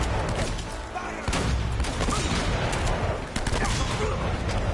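Gunfire in the video game Uncharted: Drake's Fortune, rapid bursts of shots with sharp impacts on breaking cover, dense and loud, with a player talking over parts of it.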